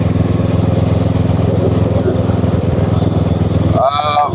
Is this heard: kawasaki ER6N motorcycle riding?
yes